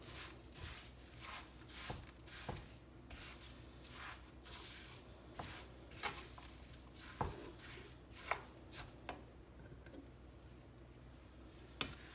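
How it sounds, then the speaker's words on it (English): Oats being stirred through melted butter in a pan over low heat, with soft repeated scraping and tapping of the utensil against the pan, fairly quiet and steady with occasional sharper clicks. "Just give that a mix and make sure all the oats are coated with the"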